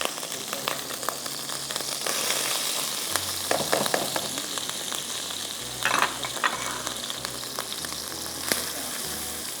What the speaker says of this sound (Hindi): थोड़ा सा हम इसको फ्राई करेंगे